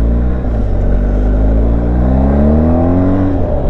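A BMW R1250GS motorcycle accelerates hard, its engine note loud and close, climbing steadily in pitch as the revs rise under a constant roar of wind and road noise.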